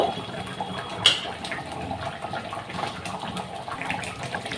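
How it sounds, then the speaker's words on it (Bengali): Raw hilsa fish curry boils hard on high heat in a pot, a steady close bubbling and hissing with a brief louder splutter near the start. "স্টিম জোরে দিয়েই দু তিন মিনিট ফুটিয়ে দেবো"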